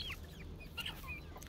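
A rooster clucks faintly outdoors on a farm that also keeps native cattle, giving several short, scattered clucks over a low background hum.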